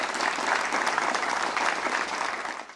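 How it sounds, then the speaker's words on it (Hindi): At a panel discussion on higher education, an audience gives a full, sustained round of clapping to welcome a panelist. The applause stays even and continuous, then tapers slightly at the very end. "तो इनका भी बहुत जोरदार तालियों से आप सभी स्वागत करें।"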